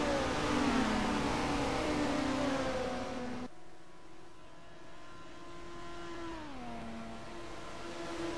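Touring-style race cars roar down the straight at Bathurst in a racing game, engines droning loud and steady as one pitch climbs and then drops when a car shifts gears. No one speaks.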